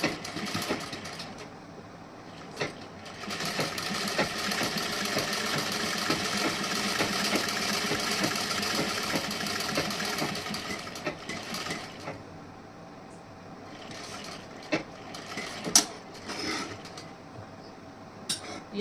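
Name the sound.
sewing machine stitching a blouse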